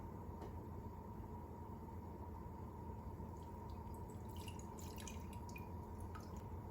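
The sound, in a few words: herbal liquid dripping while strained through a screen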